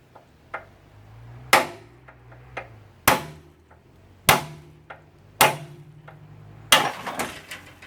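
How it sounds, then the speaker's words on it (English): Sharp metallic hammer blows ring out on a 1975 C20 truck as a ratchet is used as a punch, with about six hard strikes spaced roughly a second apart and fainter taps between them. "You ever seen anybody use a ratchet for a punch?"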